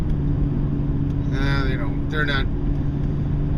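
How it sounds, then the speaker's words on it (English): A continuous low drone of passing road traffic hums steadily in the background while someone briefly speaks over it. "Traffic."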